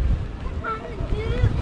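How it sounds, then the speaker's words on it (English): Strong wind from Hurricane Arthur buffets the microphone at Surf City, North Carolina, in low, rumbling gusts while a voice talks over it. "it's actually so windy out here"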